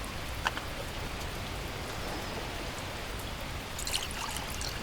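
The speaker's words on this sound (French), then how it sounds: "J'ai compris. Il pleut." Steady rain falls in the video game The Last Plague: Blight, a constant hiss of drops with a few brighter splashes near the end, with no talk over it.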